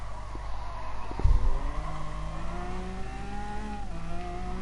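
Lamborghini race car engine in Gran Turismo Sport on sport soft tyres, droning steadily through a corner, with a brief thump and faint tyre squeal as the pitch climbs and settles, loud and close throughout.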